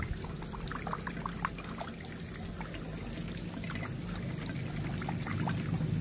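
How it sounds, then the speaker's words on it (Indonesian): A water fountain splashing into a fish pond gives a steady, moderate pouring and trickling wash with small splashes throughout. "Ada pemancar, ada apa? Kayak air terjun gitu dibikin kayaknya tuh, ya kan? Mancur aja."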